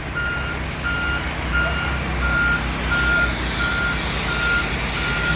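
A concrete truck backing up on a new house construction site emits loud, evenly spaced reversing beeps, about eight in a row, over a steady diesel engine rumble.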